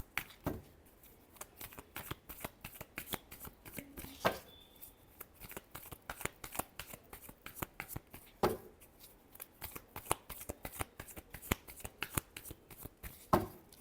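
Tarot cards are shuffled by hand in repeated quick riffles and slaps, close and crisp, with short pauses between bursts and no talking.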